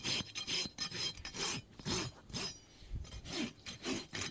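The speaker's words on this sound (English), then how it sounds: "There is Renato having his other leg trimmed" Close, steady rasping of a cow's broken hoof being trimmed, with repeated rough scraping strokes in an even rhythm and no talking.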